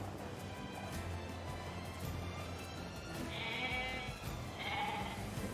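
Sheep in the video game Nier Replicant bleat twice in short, moderately loud calls over a steady background of game ambience, with no talking.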